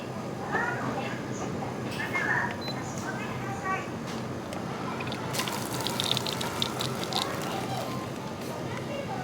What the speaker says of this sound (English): Was not expecting the water to just shoot out like that